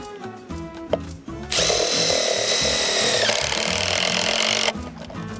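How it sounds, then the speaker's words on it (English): A power tool drives a screw to fix a bracket into a wooden deck block while framing a deck. A couple of short bursts are followed by a loud, sustained whirring drive of about three seconds that then stops. "He tightens the bolt home, taps the bottom block into place, and screws the bracket into the block."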